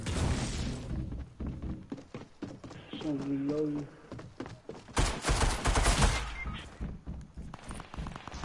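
Rapid gunfire crackles in a Fortnite squad match, loud bursts of shots under excited talk from players, with a dense burst of fire near the end.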